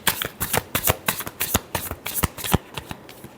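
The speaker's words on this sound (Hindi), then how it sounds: "last shuffle" Tarot cards shuffled during a love reading, a quick run of crisp riffling snaps in a steady rhythm, close and fairly loud, with no voice over them.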